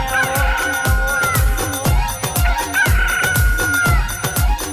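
A rooster crow sound effect rises over a driving, steady drum beat and dense instrumentation in a Gujarati devotional bhajan, with the music loud throughout.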